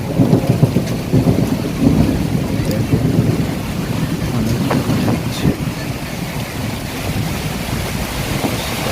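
Heavy rain from a thunderstorm roars steadily throughout, with low rumbling and gusty wind buffeting the microphone; no voices are heard.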